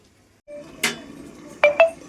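A metal lid is lifted off a pot of boiled potatoes cooking for a pumpkin-stem and poppy-seed curry. A sharp clatter is followed by two quick bright clinks, close and clear over quiet kitchen background.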